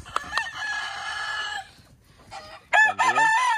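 Rooster in a farm cockpit with hens, crowing loudly and close twice, a long drawn-out call followed by a shorter burst after a brief pause, with some clucking around it.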